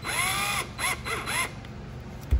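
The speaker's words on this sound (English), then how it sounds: "you're going to want to reverse your drill for the opposite side and run it" A power drill runs in reverse, threading a turnbuckle while a large model aircraft is assembled. Several whining bursts rise and fall in pitch, and a sharp knock comes at the end.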